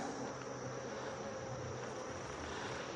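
Honeybees buzz around a hive in mid-August, with some robbing, a continuous droning hum that fills the air evenly at moderate loudness without a break.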